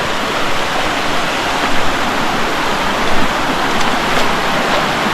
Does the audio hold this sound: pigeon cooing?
no